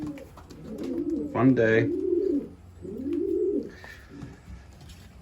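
Young pigeons cooing on the landing board of a loft, soft repeated coos in two bursts, with a person speaking briefly nearby.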